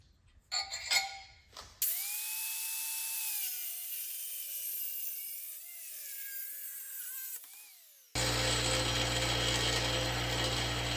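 A torque wrench ratchets steadily while tightening studs during a 1963 Corvair engine rebuild, giving a close, continuous clicking run that ends abruptly in a louder broadband noise. There is no talking.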